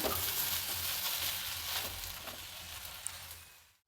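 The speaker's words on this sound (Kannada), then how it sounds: "ಬೆಂಡೆಕಾಯಿ ಎಲ್ಲ ಕರೆಕ್ಟಾಗಿ ಫ್ರೈ ಆಗಿದೆ ನೋಡಿ" Okra fries in a pan with a steady, close hiss and crackle that fades out toward the end.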